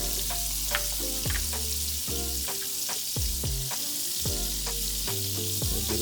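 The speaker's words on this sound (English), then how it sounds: "Heat the butter up first. Got that with medium heat, so we're gonna put the garlic" Garlic sizzles in melted butter over medium heat in a pan, with a steady bright hiss and crackle throughout and repeated stirring knocks, no talking.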